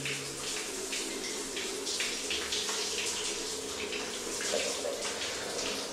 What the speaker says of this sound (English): There you go, literally a 1 minute shower.